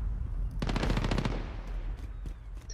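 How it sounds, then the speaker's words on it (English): Secondary SMG fire in the Modern Warfare video game, a fast burst of rapid shots for about half a second, followed by fainter scattered gunfire and ambient game noise. "I'm gonna try my secondary SMG"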